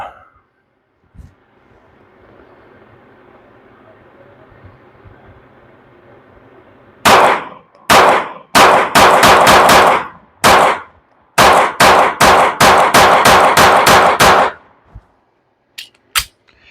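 An Archon Type B gun fires a quick string of loud, sharp shots, close and dry, in uneven bursts after a quiet stretch, with a couple of final isolated pops.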